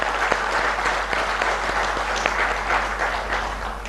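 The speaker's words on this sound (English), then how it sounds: "I think they deserve a big round of applause." Steady audience applause at the inauguration ceremony for a biopharmaceutical manufacturing plant in Hyderabad, continuous dense clapping over a low hum, sustained evenly throughout.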